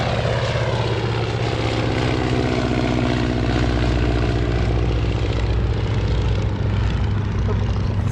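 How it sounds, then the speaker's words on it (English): A blue biplane with yellow wings flies over a small airport, its propeller engine droning loud and steady with a buzzing hum throughout. "Second biplane, blue biplane with yellow wings is up."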